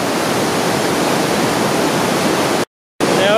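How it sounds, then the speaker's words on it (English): The Rhine Falls waterfall roars as a loud, constant, broadband rush of water heard up close, unbroken until a brief cut near the end, with no voices over it. "It's the roar of the water."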